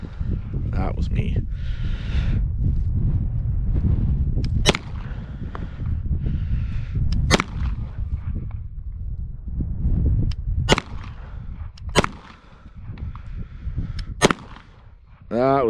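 An HK SFP9L pistol fires at a paper target in a series of loud, sharp, irregularly spaced shots over steady wind noise and outdoor rumble, with a brief sound at the end.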